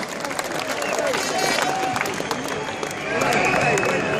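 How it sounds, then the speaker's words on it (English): Outdoor rally crowd at Whitehall, London, giving the stewards a round of applause, a dense steady wash of clapping with scattered cheers that swells slightly near the end. "Let's have a round of applause."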